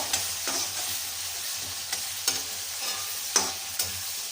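Tomatoes cooking in oil in a pan with salt, a steady frying sizzle broken by several sharp stirring scrapes and taps of a utensil, close and moderately loud, with no speech.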